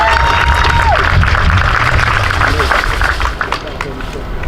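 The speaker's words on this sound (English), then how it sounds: "let's give him another hand clap for his testimony" An audience at an outdoor domestic violence awareness walk in Pine Bluff, Arkansas, claps steadily in a dense wash of applause with some cheering and crowd chatter, gradually thinning toward the end.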